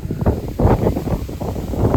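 Steady gusty wind buffets the microphone with low rumbling bursts at Rajathottam in Kollam, close and fairly loud throughout, with no voices.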